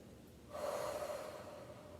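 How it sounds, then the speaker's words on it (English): During a yoga bow pose, someone takes one deep, audible breath in that starts suddenly and then slowly fades, close and quiet, with no talking. "Take a breath."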